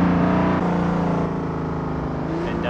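A car engine drones loud and steady while drifting in the racing game Assetto Corsa on Xbox One, holding a high rev note with slight pitch shifts and no talk.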